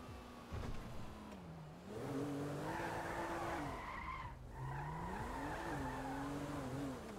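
Truck in a roleplay driving game, engine droning and rising while tires squeal in long skids through turns, a steady loud run with shifting pitch.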